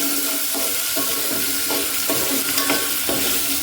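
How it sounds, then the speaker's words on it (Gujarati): Chopped green chili and tomato hit hot oil for a Gujarati dal tempering, giving a loud, continuous sizzle with occasional stirring scrapes close up. "હવે નાખશું લીલું મરચું અને ટમેટું. આ દાળનો વઘાર કરવા માટે છે."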